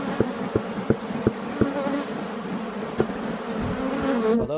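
Honeybees buzz steadily as a beehive is opened for inspection, a dense close drone with a few sharp knocks and taps from handling the hive frames.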